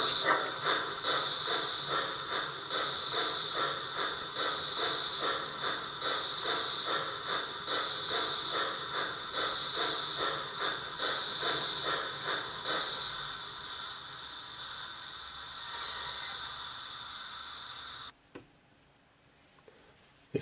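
Model steam locomotive sound decoder chuffing in a steady rhythmic beat with constant steam hiss, the chuffs stopping partway before a lingering hiss and a few clicks.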